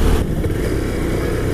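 A motorbike engine runs steadily while riding, a loud, continuous low drone close to the microphone with slight rumbling variation and no voices.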